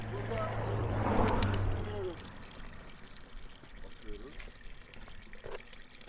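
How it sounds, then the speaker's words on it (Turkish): Cold mountain spring water flows steadily in the Black Sea highlands of Turkey, a continuous close splashing trickle that is loudest in the first two seconds, with a faint voice in the background. "Dağdan gelen su."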